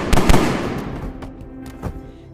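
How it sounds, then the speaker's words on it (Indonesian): A couple of sharp, loud bangs in quick succession, followed by fainter cracks and a ringing tail, close by with no talking. "Ternyata itu adalah tembakan dari David yang berhasil melepaskan diri"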